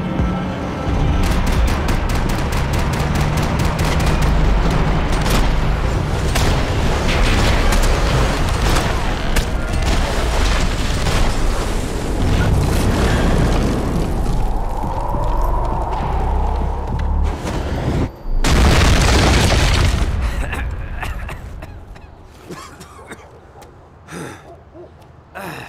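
Gunfire and explosions rage in the video game Max Payne 3, a dense, loud sustained clatter of shots with booming blasts and a roaring burst near the end before it thins out.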